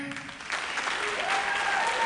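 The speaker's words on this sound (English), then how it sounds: "clap if you got kids somewhere" A comedy audience claps in a dense, steady wash that swells slightly louder partway through, with no talk over it.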